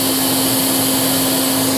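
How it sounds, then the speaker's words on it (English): Loud, steady roar of a Hoover vacuum cleaner sucking water from a radiator valve, a constant close drone with a fixed hum throughout and no voices. "Now you can see I'm sucking that into the Hoover,"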